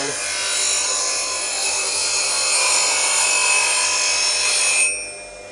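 A carving gouge honed on a sharpening stone with a sharpening jig: one long, steady, close abrasive rasp that stops abruptly near the end.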